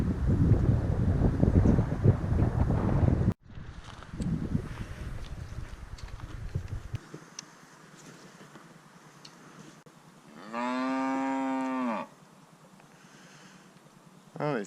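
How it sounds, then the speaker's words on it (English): Near a river while fishing for Murray cod, a cow lets out one loud, drawn-out moo after a stretch of gusty wind noise and quieter outdoor background. "Oh, these cows are really going off their guts."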